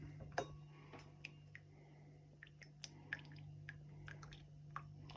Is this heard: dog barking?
no